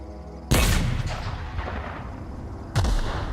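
A grenade launcher in the video game The Outer Worlds fires twice, each shot a loud, booming blast with a rumbling tail, spaced about two seconds apart.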